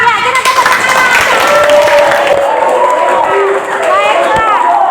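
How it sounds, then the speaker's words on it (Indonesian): A classroom of students claps together, a dense steady burst of applause filling the room, with voices chattering and calling out over it throughout. "Oke, mantap ya, kita tepuk tangan."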